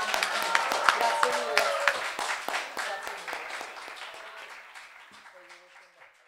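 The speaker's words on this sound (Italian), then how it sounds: "Fate un grandissimo applauso a Nicola Binda." An Italian TV comedy show audience applauds a guest, dense clapping at first that thins and fades over several seconds, with a few voices under it toward the end.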